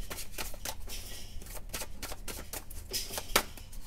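Tarot cards are shuffled by hand in a quick, irregular series of riffling, papery slaps and flicks, close and fairly soft, with no talking.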